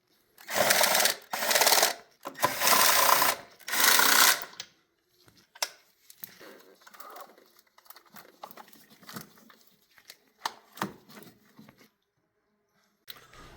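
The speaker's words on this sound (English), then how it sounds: "We're going to remove these two bolts here." Bolts on a Toyota T100 intake manifold being removed with a power ratchet, four loud buzzing whirring bursts close up, followed by quieter scattered clicks and tool handling.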